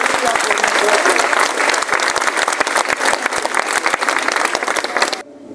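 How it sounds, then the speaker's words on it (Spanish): A crowd at an Easter Sunday procession of the Risen Christ in Salamina, Caldas, Colombia applauds loudly and steadily, dense clapping with sharp individual claps standing out, fading at the close. "Regalémosle un fuerte aplauso a aquel que venció la muerte y dio la vida por"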